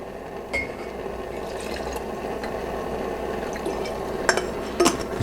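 Water from a bottle pours steadily into a small brass stove boiler, making a continuous close trickling and gurgling with a few light metallic clinks near the end.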